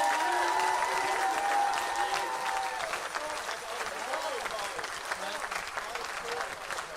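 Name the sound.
audience applause at a percussion concert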